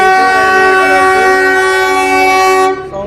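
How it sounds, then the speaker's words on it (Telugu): A toy train passes close by with a loud, sustained horn blast lasting about three seconds, mixed with rumbling rail noise, then cuts off abruptly. "ఇదే టాయ్ ట్రైన్."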